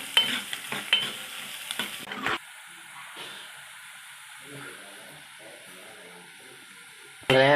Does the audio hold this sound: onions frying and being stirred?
yes